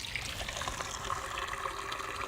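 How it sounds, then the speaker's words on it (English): Purified rainwater from a Berkey filter runs into a pitcher as a faint, steady trickle of water, close by and without talk. "I simply stick a pitcher down here, and then my rainwater is purified to be delicious and great for drinking"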